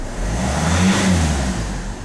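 A Ford car engine, just returned to running after a no-start, no-crank fault, revs up steadily and loudly close by, holding a rising drone for about two seconds with no talk.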